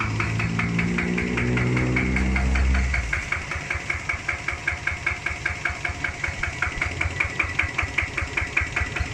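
A Kubota ZT100 diesel engine winds down from a higher rev, then settles into a steady rhythmic knocking idle, close and even.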